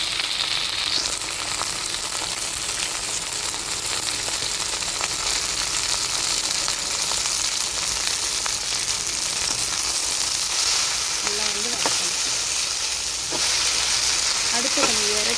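Okra sautéing in a pan with salt and curry leaves, giving a steady, even sizzle and hiss throughout, with a few faint stirring clicks and no voice heard.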